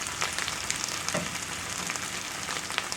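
Okra fries in a cast iron skillet, a loud, close, continuous sizzle and crackle with small pops scattered throughout and no talking.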